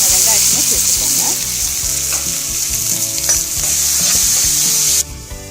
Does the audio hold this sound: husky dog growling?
no